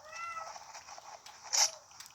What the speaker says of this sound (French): Il y a un chat qui meurt pour sortir de ma chambre.